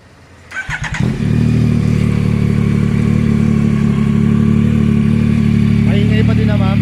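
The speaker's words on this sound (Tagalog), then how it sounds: "Start natin itong motor." A Yamaha Tracer 9 GT motorcycle fitted with a new aftermarket exhaust starts with a few cranking pulses, then settles into a loud, steady, close idle with a deep continuous rumble, a slight rev near the end.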